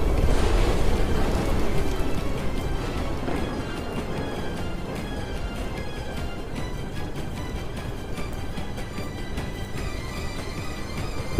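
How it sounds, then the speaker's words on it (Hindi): Steady, dense rain pouring down, a continuous broadband wash with no voices, loud and constant throughout. "तभी बहुत जोरों की बारिश होने लगती है।"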